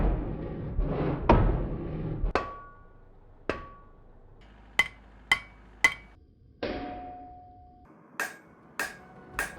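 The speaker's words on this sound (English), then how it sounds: "put it on the anvil, and we're going to hammer the drift that we just made through that" Hammer blows drive a drift through hot metal on an anvil, about a dozen sharp strikes with bright ringing tails, spaced unevenly and growing quicker toward the end.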